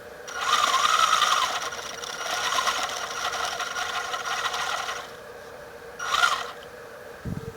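A WL Toys 124301 leaf-sprung 4WD Austin RC lorry whirs as its electric motor and steering servo run, with two bursts of mechanical whine, one sustained and louder, then a shorter one after a pause, close up and alone.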